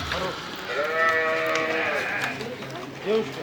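Goats at a livestock market in Kyrgyzstan bleat close by, one long wavering call, then shorter cries, while people talk in the background.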